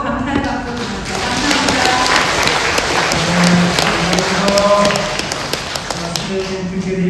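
Audience applause in a Korean Catholic parish hall after a Bible-study lecture, a steady wash of clapping lasting throughout with some voices and tapping mixed in.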